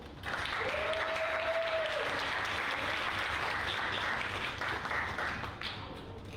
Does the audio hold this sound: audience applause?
yes